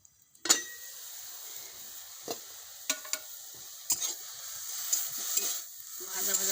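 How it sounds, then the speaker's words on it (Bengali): Bottle gourd leaves frying in a pan, a steady soft sizzle broken by sharp scraping clinks of the stirring utensil at irregular moments, close and fairly quiet. "ভাজা ভাজা করে নিয়েছি, ভাপিয়ে নিয়েছি হালকা করে।"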